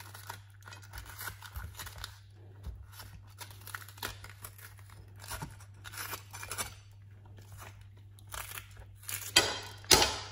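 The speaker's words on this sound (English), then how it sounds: "Give a cut and take all the seeds out." Jalapeño peppers being sliced open and seeded by hand in a home kitchen, giving soft intermittent cuts, scrapes and crinkly rustles over a steady low hum, with a louder burst of clatter near the end.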